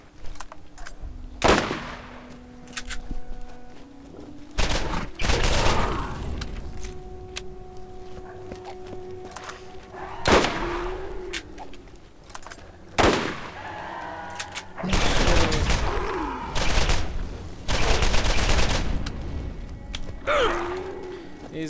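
Gunfire from weapons in the Borderlands video game: several loud bursts of shots separated by quieter stretches, some short and sharp, others longer rattling volleys, with a faint low hum between them.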